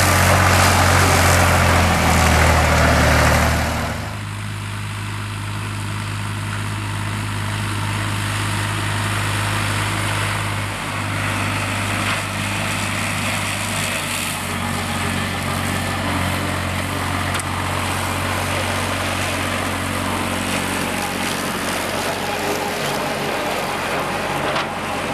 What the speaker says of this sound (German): nur allzu bald mischt sich Traktorengeräusch unter das Gesumme der Insekten und das Zwitschern der Vögel.